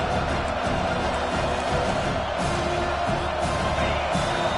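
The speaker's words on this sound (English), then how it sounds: "Decibels rising as the crowd gets behind this defense on 3rd down." A football stadium crowd roars steadily in support of the defense on a third down during a college game, a dense, sustained wall of cheering and whooping that stays loud throughout.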